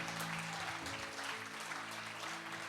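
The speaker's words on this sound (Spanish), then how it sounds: "Dale fuerte el aplauso al Señor en esta mañana." Church congregation applauding the Lord during a morning service, dense steady clapping throughout, fairly faint and distant, with a low hum under it.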